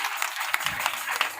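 A church congregation applauds, a brief spread of scattered clapping from many hands at moderate distance, steady throughout with no voices over it.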